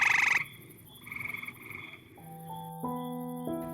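Frog croaks come in short repeated bursts, clear and close, with no talking around them.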